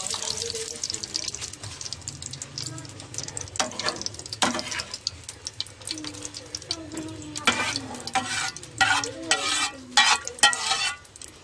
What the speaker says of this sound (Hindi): अब इसके अंदर घी डालेंगे।